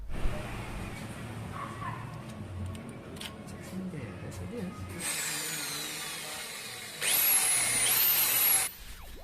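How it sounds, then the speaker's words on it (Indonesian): A power drill boring a hole in stages for a motorcycle throttle cable, with a whining high-pitched drilling burst near the end, following quieter workshop handling noises and speech. "Untuk membuat lubang di sini harus bertahap ya teman-teman. Jadi tidak boleh langsung dengan mata bor yang besar."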